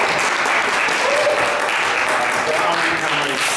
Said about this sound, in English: Huge applause to me.